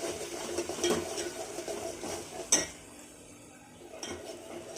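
Garam masala being stir-fried with ginger-garlic paste in a pan for a Maharashtrian-style chicken curry, with steady soft scraping and a few sharp metal clinks of the spoon against the pan.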